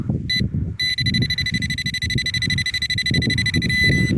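Nokta Score 3 metal detector giving a steady high electronic target tone while sweeping outdoors for relics, loud and continuous after a brief first chirp, with low rustling and handling noise beneath and no talking.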